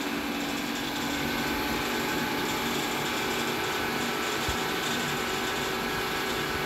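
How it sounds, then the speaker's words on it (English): Suction of a raw sewage transfer pump in a sewage treatment plant, a steady mechanical drone with a rapid ratcheting, clattering texture that stays constant and fairly loud throughout, no talking. "Suction from raw sewage transfer pump."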